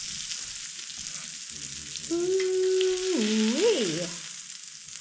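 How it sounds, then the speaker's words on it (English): Steaks searing in a pan with butter and thyme give a steady, close sizzle throughout, and a voice cries out with a rising and falling exclamation over the middle of it. "sear these guys up."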